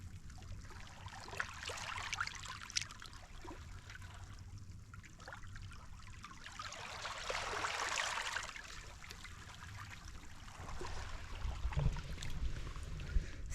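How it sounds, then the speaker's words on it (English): Ocean water washes over rocks at a remote Alaska beach near Seward, a faint, continuous wash with a soft swell rising in the middle and gentle trickles throughout, heard alone. "It's nice to hear the sound of the ocean on the rocks."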